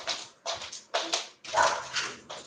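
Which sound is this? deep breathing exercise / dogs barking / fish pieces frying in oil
dogs barking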